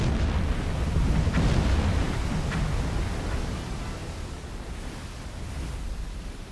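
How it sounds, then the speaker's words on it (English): Torpedo detonations in the submarine video game Silent Hunter 4 rumble as a loud, deep, sustained roar with a couple of faint sharper cracks, then slowly fade. "we've heard two detonations very quickly"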